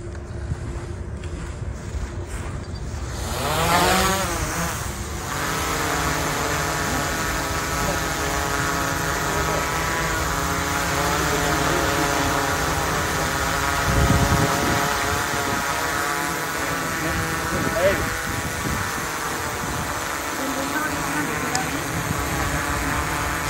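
A DJI Mavic 3 Cine drone spins up and lifts off outdoors, its rotors rising into a steady, loud whining drone that holds on through gusts of wind, with brief talk near the start.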